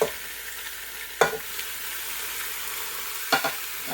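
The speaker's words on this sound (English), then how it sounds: "That's why they call it a sear and sizzle right there." Top sirloin steak sears in a sear and sizzle pan, giving a steady, fairly quiet hiss with two brief louder bursts around the middle and end.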